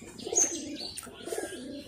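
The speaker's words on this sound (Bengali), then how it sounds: "এই যে কবুতরটা" A loft pigeon gives a short, soft cooing call at close range, with a faint chirp mixed in and no voices over it.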